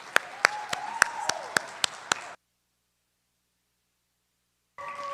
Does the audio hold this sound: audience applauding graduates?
yes